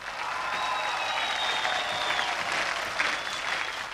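A Russian television game show studio audience applauds steadily, a dense wash of clapping held at an even level for a few seconds, with no talking over it.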